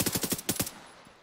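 A short video game machine-gun burst of about seven quick, evenly spaced shots rings out alone at moderate loudness, then fades into a brief tail.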